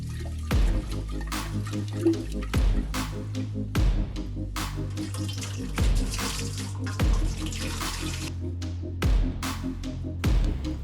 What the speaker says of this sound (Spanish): Asegúrate de lavarlas en el chorro de agua varias veces.